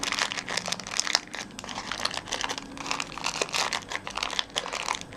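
Cardstock is folded and turned inside out by hand to shape a lotus wax melt holder, a close, continuous crinkling and rustling with small crisp crackles and no talk.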